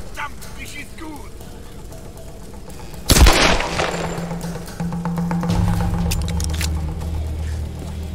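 A single sharp, loud gunshot cracks out midway through a Tomb Raider game scene, followed by a low droning hum in the game's background noise.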